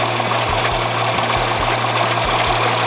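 A tractor engine runs loud and close at a nursery during spring tree planting of honey locusts, a steady low idle-like chug with regular rhythmic pulses.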